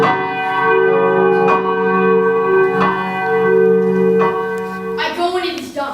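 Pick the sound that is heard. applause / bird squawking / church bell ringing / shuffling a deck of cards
church bell ringing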